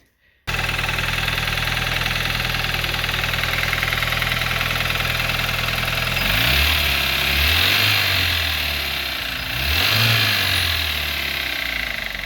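An Audi A4 B5 Quattro engine with worn connecting rods idles loudly up close with a knocking rattle, then revs up twice in rising and falling swells before settling back to idle.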